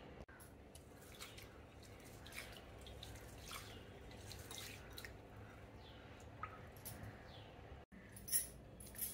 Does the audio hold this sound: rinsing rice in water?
yes